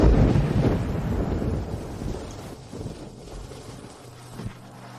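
A rolling rumble of thunder opens a scene in a drama with steady rain beneath it, loud at first and then fading into a softer downpour.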